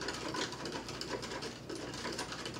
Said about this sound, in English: You know that you're done stirring when you no longer hear the grit in the cup going.